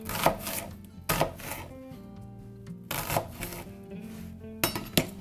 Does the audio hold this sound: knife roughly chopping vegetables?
yes